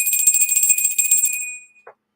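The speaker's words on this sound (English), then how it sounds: "a cleansing ding dong" A single bright bell chime rings out clearly in a quiet room and fades over about a second and a half, followed by a brief soft knock.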